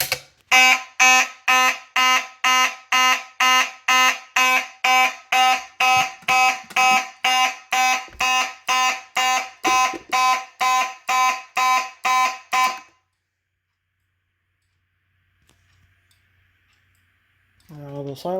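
A Simplex 20-198-38 fire alarm horn mounted on a strobe plate sounds during a small system test, giving about two dozen loud, evenly spaced pulsing blasts before cutting to silence, with a brief voice near the end.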